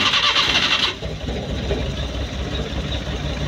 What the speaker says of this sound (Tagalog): At ngayon, i-start natin ulit mga boss.